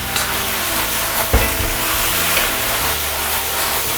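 Shredded cabbage hits a hot wok already sizzling with ginger, garlic, scallion, dried chilies and Sichuan peppercorns, and sets off a loud, continuous hiss and crackle close by, with a single clank near the start.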